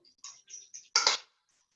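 Quick metallic clinks of a fork whisking a small amount in a small bowl, a few light taps and then a louder burst of rapid scraping, close by.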